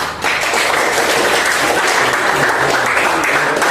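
Students in a high school classroom clap together in a loud, even burst of applause that starts abruptly and holds steady throughout, with faint voices underneath.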